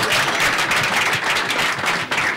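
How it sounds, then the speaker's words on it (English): Studio audience clapping on a live broadcast, a loud dense burst of hand claps close by, sustained without a break. "Let's clap first."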